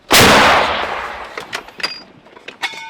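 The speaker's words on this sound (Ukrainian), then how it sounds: "Готові? Постріл!" A single heavy blast from a British L119 howitzer booms out loudly near Bakhmut and rolls away in a long decaying rumble, followed by faint clanks and echoes.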